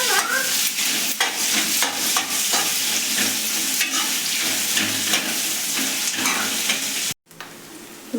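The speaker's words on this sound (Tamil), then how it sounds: "வெங்காயம் நல்லா வதங்கிட்டு இருக்கு ஃப்ரெண்ட்ஸ்" Onions sautéing in a pan, a steady broadband sizzle with repeated scrapes and clatters from stirring, close and loud throughout, cutting off briefly near the end before resuming.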